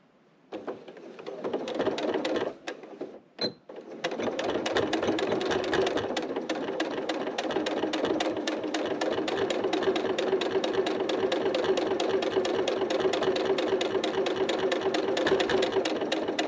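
A sewing machine runs a long continuous seam, top stitching a minimalist cell phone purse, after a few brief starts and clicks, loud and close with a steady mechanical hum.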